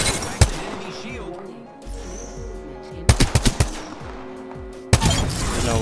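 R-301 rifle fire in a battle royale shooter, sharp close bursts of automatic gunshots in clusters with scattered single shots, over game effects and a speaking voice.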